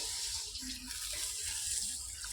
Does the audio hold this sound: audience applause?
no